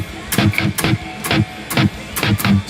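Rhythm guitar strums a pre-chorus pattern, with short muted strokes in a steady choppy rhythm, close and moderately loud, no talking.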